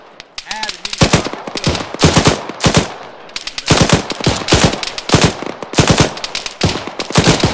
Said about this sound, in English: Yeah, we're taking fire.